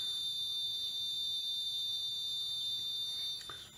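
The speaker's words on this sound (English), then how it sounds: "now I'm taking away this buzzer" A continuous high-pitched electronic buzzer from a solar panel school science kit drones steadily at one pitch, fairly faint, with a brief clunk near the end.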